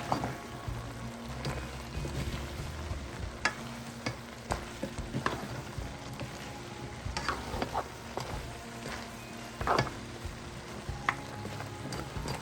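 Squash and string beans being stir-fried in a pan, a steady sizzle under repeated scraping and tossing from a spatula, with sharper clacks now and then, close and continuous.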